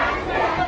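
Crowd of bank customers protesting outside Jiangxi Bank in China, a dense, loud mass of overlapping shouting voices in one brief continuous burst.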